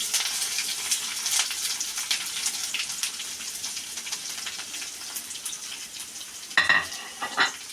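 Onions, curry leaves and dried chillies sauté in a pan with a bright, steady sizzle, interrupted by a few louder stirring scrapes toward the end.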